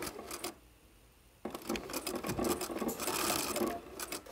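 A sewing machine backstitches the end of a pillowcase seam, a brief whir, a pause, then a longer run of rapid mechanical stitching close by.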